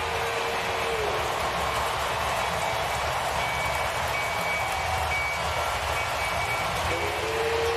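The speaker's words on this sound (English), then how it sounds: "The 4 train has just left Union Station." The 4 train leaving Union Station near a ballpark after a home run, a steady loud rumble and roar of rail cars with faint tonal squeals, continuous and without pause.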